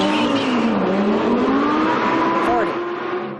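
An Audi R8 on a test track roars loudly and continuously, its engine note rising and falling as it accelerates and brakes, with a brief tire squeal near the end and some speech mixed in.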